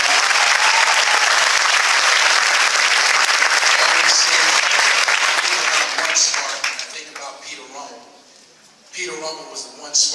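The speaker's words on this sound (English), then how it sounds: "Let's applaud them for their leadership." An audience at a OneSpark kickoff event applauds loudly and steadily for about six seconds, then the clapping tapers off and a voice speaks over the last scattered claps.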